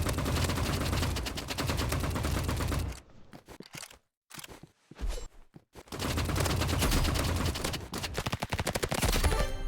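Rapid AR and Uzi fire rattles in Roblox Rivals, long loud automatic bursts at the start and end around a brief quieter stretch of scattered single shots.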